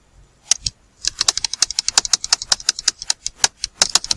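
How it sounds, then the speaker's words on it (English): Rapid keystrokes on a computer keyboard, a few isolated clicks and then a dense, uneven run of close, crisp taps continuing steadily with no talking. "I'm using my keyboard, that is why you are hearing the noise."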